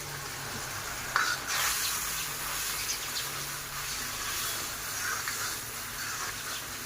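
Spices for a green vegetable dish (spinach) frying in a pan, a steady close sizzle and hiss throughout with faint stirring scrapes, no talking.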